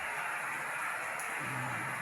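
Heavy rain pours steadily in the Philippines, a constant broadband hiss of downpour that continues without a break.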